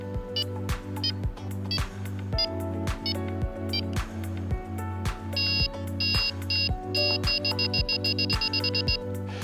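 Rapid electronic beeps from a carp fishing bite alarm, set to level 6 of 8 for beep speed, repeat in quick bursts over a steady low hum, the tones speeding up into fast runs toward the end.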